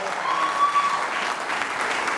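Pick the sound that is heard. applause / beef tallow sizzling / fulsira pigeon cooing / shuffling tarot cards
applause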